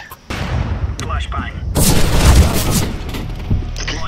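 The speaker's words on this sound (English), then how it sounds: "Flashbang." Flashbang grenade explosion in a video game: a loud broad blast bursts after a couple of earlier sharp shots, then a sustained roaring wash that fades, with game noise and distant voices around it.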